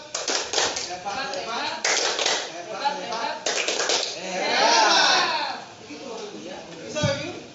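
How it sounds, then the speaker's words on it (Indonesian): A group of teachers at a mathematics teachers' meeting performs a clapping chant, with short bursts of sharp, patterned claps in time and voices chanting along between them. "Bapak Ibu, tepuk hebat."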